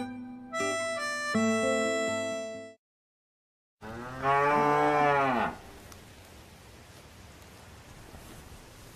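A cow lets out one long, loud moo at mid-clip, heard alone after a short burst of music and a brief silence, then fading into a quiet background.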